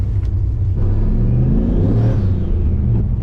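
Turbocharged LS V8 in a Holden Monaro CV8 revs loud and close, a deep throbbing rumble rising and falling through a throttle blip with a faint turbo whir on top, no voices.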